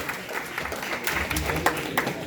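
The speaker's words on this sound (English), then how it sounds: "A round of applause for our gentlemen" Audience applause for a Red Bull BC One breaking panel in South Africa, a dense wash of clapping with crowd noise, fairly close and sustained throughout the short stretch.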